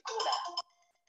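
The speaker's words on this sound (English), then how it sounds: "Sorry, that's my phone." A mobile phone ringtone goes off during an indoor lecture: a bright, tonal burst of about half a second, then quieter lingering ringing notes that fade out.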